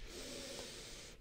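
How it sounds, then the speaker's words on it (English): A close, breathy sniff drawn in at a genuine calfskin leather phone case, one sustained airy inhale of about a second. "Gonna have to do the sniff test."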